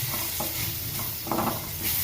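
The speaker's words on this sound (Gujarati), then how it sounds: "બધાને મિક્સ કરીને પકાવી દઈએ" Potato samosa filling with garam masala is stirred in a hot pan, giving a steady close sizzle broken by brief scraping strokes of the spoon, with no talking.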